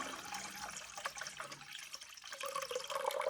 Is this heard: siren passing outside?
no